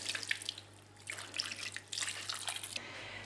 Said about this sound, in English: I'm gonna add enough water just to barely cover the meat